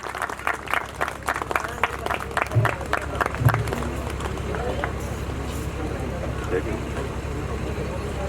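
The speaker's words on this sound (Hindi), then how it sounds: "एक बार जोरदार तालियां इनके लिए भी" At a school function, an audience claps under an announcer's voice, with scattered quick claps early that settle into a softer, dispersed patter as the crowd noise continues.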